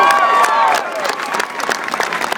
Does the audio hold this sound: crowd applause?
yes